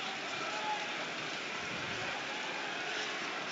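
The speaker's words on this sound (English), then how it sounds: "So rain comes down here at Ashton Gate, blowing across the pitch." Steady broadband rain hiss at Ashton Gate football stadium in Bristol, wind-driven rain blowing across the pitch during an evening match, a constant even wash of noise with no distinct drops.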